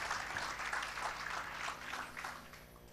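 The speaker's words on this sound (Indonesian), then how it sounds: "Dan berikan tepuk tangan bagi Tuhan." Applause from a church congregation during a worship service, a steady wash of clapping that stays fairly faint and distant before tapering off at the end.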